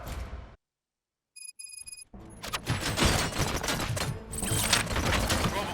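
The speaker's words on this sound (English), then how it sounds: "Gunshots? What's going on?" Rapid, dense gunfire in RoboCop: Rogue City on Xbox Series S erupts loud and sustained after a brief silence broken by short electronic tones, continuing as a heavy unbroken barrage to the end.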